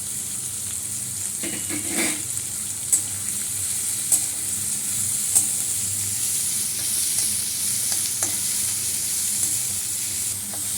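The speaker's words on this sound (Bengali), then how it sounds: "পেঁয়াজ কুচিটাও দিয়ে দিলাম।" Chopped onion and shrimp sizzle steadily in hot oil in a wok, with a continuous frying hiss and occasional scrape and clink of a spatula stirring, close and fairly loud throughout.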